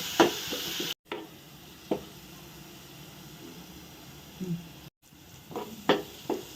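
Onion and chili paste frying in oil, a steady soft sizzle broken by brief stirring scrapes and a couple of sharp pauses, close and moderately quiet with no talking.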